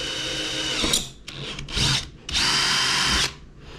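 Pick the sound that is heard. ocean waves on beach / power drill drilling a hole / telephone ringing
power drill drilling a hole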